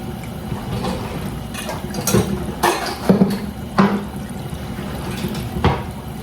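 Water runs and splashes over freshly shelled peas being rinsed in a pot, a steady trickle broken by several louder sloshes and clatters, with no talking.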